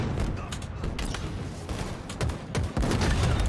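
Sticky grenades go off against a tank in Halo Infinite amid a dense stretch of rapid gunfire and blasts, loud and continuous, with a heavier burst near the end.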